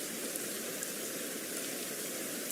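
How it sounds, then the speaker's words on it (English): Steady rain-and-nature soundscape playing as a background bed, a continuous even hiss of falling rain with no breaks, at moderate level throughout. "So I'm just using rain and nature sort of sounds"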